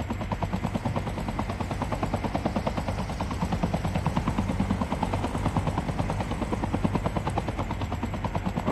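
A helicopter in the Call of Duty battle royale video game drones steadily and loudly, its rotor thumping in a fast, even pulse for the whole stretch with no talking.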